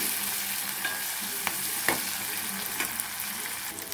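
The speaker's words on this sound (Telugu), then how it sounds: "ఇప్పుడు ఉల్లికాడలు కూడా వేసేస్తున్నాను. ఈ లైట్గా వేయించుకున్నామండి." Spring onions frying lightly in a pan for a buttermilk curry, a steady soft sizzle with a few sharp scrapes and clinks as a spoon stirs them.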